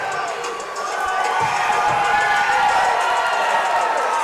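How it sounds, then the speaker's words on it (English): A hometown crowd at a fight event roars and cheers after the bout ends. The broad, steady swell rises after the first second and holds as a continuous distant roar. "Hometown crowd very happy with that."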